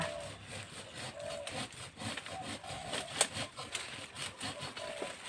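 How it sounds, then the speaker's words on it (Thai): Rhythmic scraping strokes of a knife blade cutting into a tree's wood, repeating steadily at close range with no voices. "เอามีดนะคะ ก็ใช้แทนกับเลื่อยด้วยค่ะ เอามาตัดต้นไม้ค่ะ"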